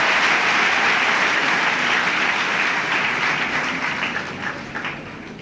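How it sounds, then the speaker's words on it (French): Crowd applause for the President of the Republic at a Djibouti university graduation ceremony, a dense steady roar of many hands lasting throughout and easing slightly toward the end. "Et je vous demande également de l'applaudir et de le remercier."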